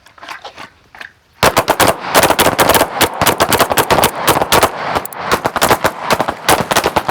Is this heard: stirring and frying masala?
no